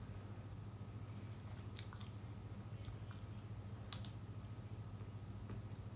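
Cashew nuts are being chewed with faint, sparse crunches over a steady low hum and background noise. No one speaks.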